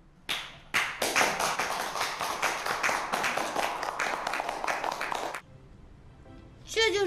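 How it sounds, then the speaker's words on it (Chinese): Group applause at a business gathering celebrating a company's success, a burst of many hands clapping steadily for about five seconds before fading into quieter room tone. "鼓掌。"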